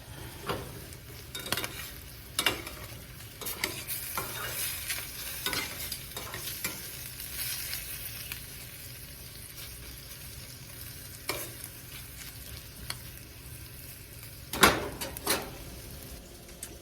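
Spare ribs frying in a pan to warm through and cook off their juices, giving a steady soft sizzle with occasional louder scrapes and clatters of stirring, close by with no talk.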